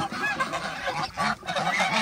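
Egyptian geese in a pen honk loudly and repeatedly, with several overlapping calls close by and no talk.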